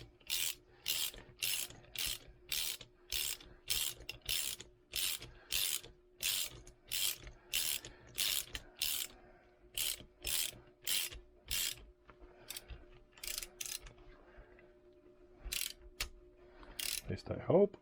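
A bearing puller is cranked by hand in a workshop, giving a rapid series of sharp ratcheting clicks in quick regular bursts, close and fairly quiet, slowing and thinning out toward the end.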